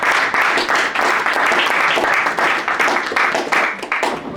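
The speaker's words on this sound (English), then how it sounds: "can I get a freshman a round of applause?" Loud, close audience applause and clapping for freshmen on a college panel stage, a dense burst of many hands with slight swells, no talking over it.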